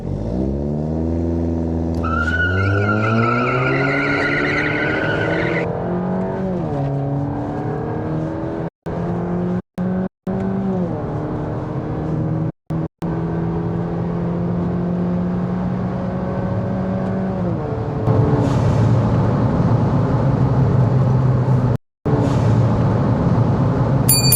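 A Volkswagen Polo GTI and a Suzuki Swift Sport launch side by side in a drag race, with loud engines revving hard and climbing through gears, a brief cut in the sound, then a roaring pass continuing to the end.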